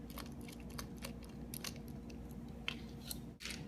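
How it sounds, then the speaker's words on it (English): A screwdriver from a screw kit unscrewing the cover of a probing template, producing close, faint, irregular scraping and clicking ticks over a steady low hum, with a sharper snap near the end. "you'll use your screw kit to unscrew either side"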